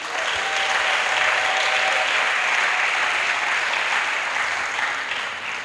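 Loud, steady applause with some cheering from a church audience at a pastoral academy session, a dense sustained roar of clapping filling the whole stretch without a break.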